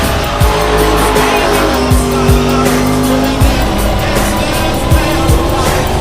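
Burnouts on a Toowoomba Wellcamp Airport strip, likely in a Holden VN Commodore, with a loud revving engine, sustained high tire squeal and repeated sweeping pitch shifts as the car spins its wheels, close and continuous for the whole stretch.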